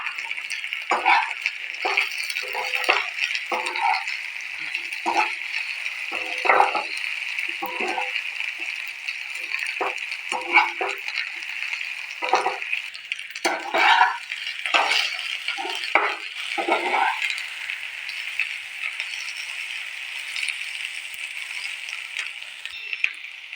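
Chopped okra frying over high flame in a pan, a steady sizzle broken by repeated scraping strokes of a spatula stirring it, fairly close and moderately quiet, with no talk.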